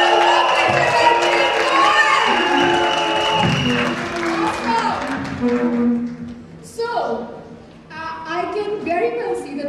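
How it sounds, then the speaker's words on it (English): Event audience applauding and cheering, a dense loud wash of clapping and shouts that fades, with an amplified voice speaking over the crowd toward the end. "Give yourself a big round of applause"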